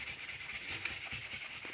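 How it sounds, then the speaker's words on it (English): Soft, rhythmic rasping of a super fine sanding sponge rubbed back and forth over a 1/4-scale Spiderman figure, quiet and close, with regular strokes. "I have a super fine sanding sponge here, and just giving it a good sanding"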